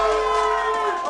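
Large crowd cheering and murmuring at Chickasaw Bricktown Ballpark during a live radio coaches show, a steady, dense roar of many voices with no pause.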